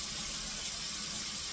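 Water pouring steadily into a pot of beets, a continuous bright hissing gush that stays even and close throughout the short stretch, with no voices.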